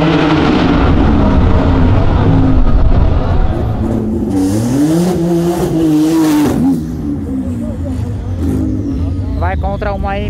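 A 750-horsepower Porsche accelerates hard on a race track, its loud engine note climbing and falling through gear changes, close and dominant, with a fainter revving pass near the end.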